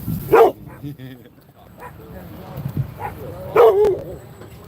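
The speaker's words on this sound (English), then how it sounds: "Hey, who you barking at?" A dog barks outdoors at a tent encampment in Oklahoma City, two sharp loud barks about three seconds apart with quieter yips between, while someone talks to it.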